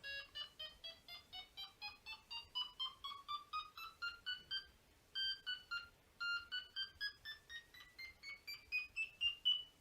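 Electronic beeping tones from a Delkim fishing bite alarm repeat in a quick steady rhythm, their pitch sliding upward step by step as the tone is adjusted, pausing briefly midway, then continuing and rising again.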